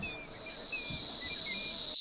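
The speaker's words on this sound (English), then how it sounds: "Cicadas are among the loudest insects. The sound they make is to attract a mate" Cicadas call in a loud, unbroken high-pitched buzzing drone that swells slightly over two seconds, with a few faint bird chirps in the background.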